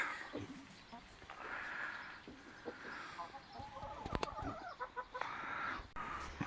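Chickens cluck and a limping rooster murmurs nearby at a low level, mixed with outdoor background noise and brief bursts of people talking.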